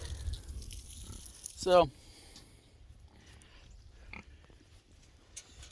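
Pigs on a farm: one loud, rising grunting squeal stands out among quieter rustles and snuffles, and someone speaks briefly.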